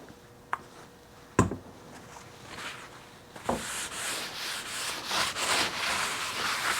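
Hand-rubbing a wooden piece: a couple of sharp knocks give way to steady, loud rasping strokes repeated rhythmically across the wood, close up and without talk.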